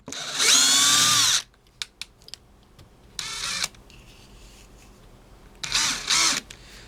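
A drill driver in drill mode at first speed whirs in short bursts, a long high-pitched run followed by two briefer spins, with clicks and handling noise between.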